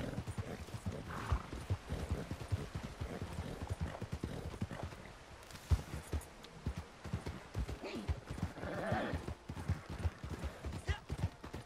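Horse hooves gallop in steady, rapid clip-clop beats through Red Dead Redemption 2 gameplay, with a brief whinny and some faint talk mixed in.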